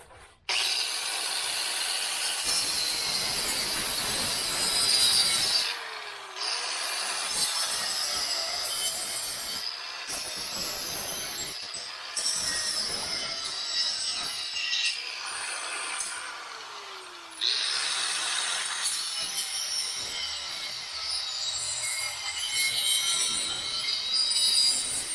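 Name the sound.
broken chair part tearing while being broken out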